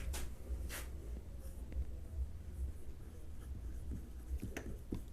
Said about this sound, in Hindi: मैं यहाँ पर लिख देता हूँ